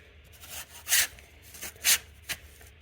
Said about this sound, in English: that's how we sharpen these with the farmer's file we have